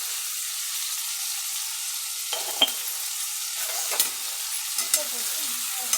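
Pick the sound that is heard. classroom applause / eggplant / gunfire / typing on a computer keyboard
eggplant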